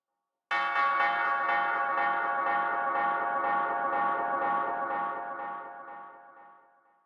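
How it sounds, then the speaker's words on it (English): A church bell sample from a Goldbaby sound pack rings out with a single sustained, bright metallic strike, its shimmering tone pulsing gently and slowly fading over several seconds. "we added one more interesting part, which was a church bell sample from the Goldbaby pack"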